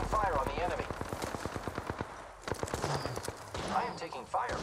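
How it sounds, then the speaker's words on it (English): Gunfire in the battle royale shooter Apex Legends: a fast, evenly spaced stream of automatic shots followed by scattered bursts, with voices speaking over the firing. "Opening fire on the enemy."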